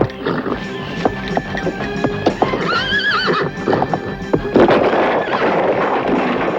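A horse ridden by a very tall man in a Three Musketeers film neighs loudly and whinnies over a steady clip-clop of hooves. The sound grows busier and louder toward the end, and no voices are heard.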